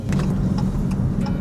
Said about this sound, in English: Listen to that the supercharger! whine.